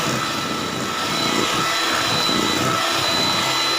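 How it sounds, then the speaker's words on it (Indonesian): Electric kitchen mixer beating eggs for a layered cake batter, a continuous loud whirring motor drone held steady throughout, no speech. "Mixer sampai telurnya rata."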